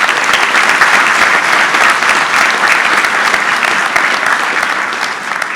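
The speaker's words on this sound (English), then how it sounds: "another round of applause" Sustained audience applause for volunteers at a college induction ceremony, dense and steady clapping filling the hall, loud and unbroken throughout, tapering slightly at the end.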